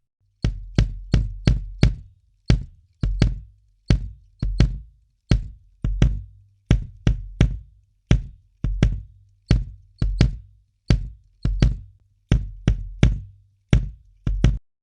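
Bass drum pedal in a recording before repair, meant to squeak: a steady run of about thirty close, loud, evenly spaced kick thuds, each with a sharp attack. The beats fall in pairs and singles with brief silences between them.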